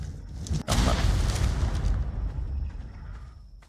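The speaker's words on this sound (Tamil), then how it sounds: "இவங்க வெடியை போட்டான்." A sudden explosion bursts in the ARK Omega mod game, then a heavy, rumbling roar fades slowly over a few seconds.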